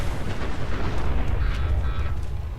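A loud, rumbling video game explosion in Fallout 4 with dense low-end roar and crackling debris that sustains for a couple of seconds without letting up.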